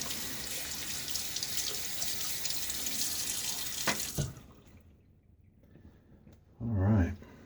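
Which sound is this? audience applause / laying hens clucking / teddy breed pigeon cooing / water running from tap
water running from tap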